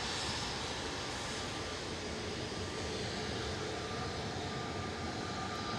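An airliner climbing away from Manchester after takeoff leaves a steady, fairly loud engine rumble and broadband roar that stays constant throughout, with no voices.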